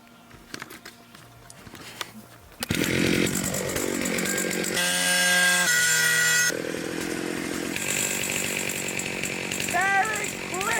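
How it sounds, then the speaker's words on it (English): A chainsaw cuts down trees at an off-grid tiny house. It roars in loud and close after a quiet opening with voices, then runs steadily with its pitch shifting as it bites into the wood. "I need to get the chainsaw and cut that one down"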